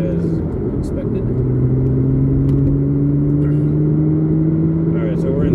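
A Porsche Cayman engine hums steadily in third gear at 4,000 RPM, a constant, loud cabin drone with a sustained tone and no pauses.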